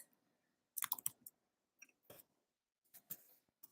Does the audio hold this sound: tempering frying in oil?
no